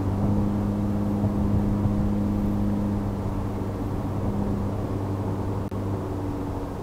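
Cabin drone of a car with a non-resonated XLR8 exhaust and XLR8 V2 J-pipe cruising uphill around 2,000 RPM, a steady low humming rumble with no talk.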